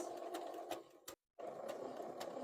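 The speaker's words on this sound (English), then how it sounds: "I'm going to sew until I hit about 1 centimeter where I'm going to pivot" Sewing machine stitching a workwear dress: a fast, even mechanical rattle of running stitches that stops abruptly for a brief pause, then resumes at the same pace, close and clear.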